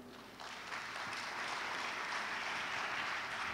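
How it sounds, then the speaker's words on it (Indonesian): Audience applause at an investment talk given by Indonesia's minister of investment, dense steady clapping that swells in the first second and then holds at an even level throughout. "Kita berikan tepuk tangan."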